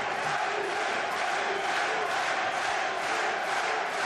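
Boxing match spectators roar steadily during a strong round for the fighter Gutknecht against McIntosh, a dense, loud crowd wash of cheering and shouting that never lets up, with no clear single voice standing out.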